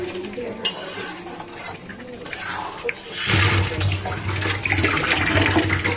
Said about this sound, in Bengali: টুক করে হাতটা ধুয়ে নিল মহিত